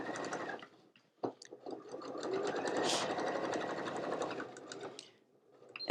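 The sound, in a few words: sewing machine stitching pouch casing to exterior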